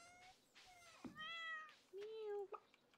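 A cat meows in the Stardew Valley video game, several short bright mews in quick succession, close and clear over a quiet background.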